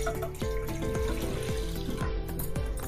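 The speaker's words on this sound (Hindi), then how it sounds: "इसमें डालूंगी मैं एक गिलास पानी।" Water poured from a glass into a pan heating on a gas stove, a steady splashing pour that holds for about three seconds at close range with no talk.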